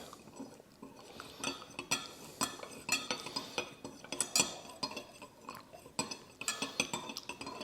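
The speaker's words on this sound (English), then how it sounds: "Now I'll stir that around until it's all nicely dissolved." Bread ingredients being stirred in a mixing bowl make a rhythmic, fairly quiet run of clinks and scrapes as a utensil circles against the bowl, alone without voices.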